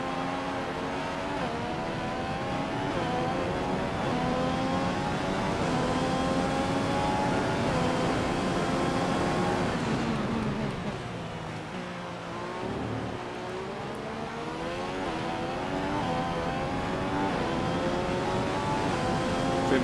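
Continuous, loud engine whine of a Formula 1 race car in F1 2015, revving up through gears with rising harmonic sweeps, dipping briefly mid-way before climbing again during the China training session.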